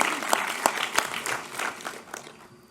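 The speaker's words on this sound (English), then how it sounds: "Give yourself a round of applause, really." An audience at a high school scholarship night gives a round of applause: scattered, fairly close hand claps that fade out over a few seconds.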